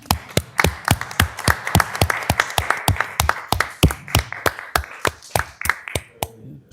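Sparse applause at a board of directors meeting, a small group clapping in distinct, sharp individual claps, roughly even in rhythm, close and crisp in a quiet room, tapering off at the end.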